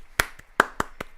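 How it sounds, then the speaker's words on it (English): A single pair of hands clapping about five times in a quick uneven rhythm, close and crisp, alone with no talk. "Applause to this man."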